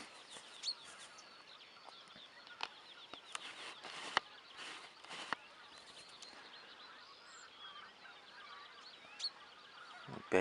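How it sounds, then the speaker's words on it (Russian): A flock of geese flies over open sea during a spring hunt, faint distant honking calls repeating irregularly over a low wind-like hiss, with a few louder nearby bumps. "Гусь идет."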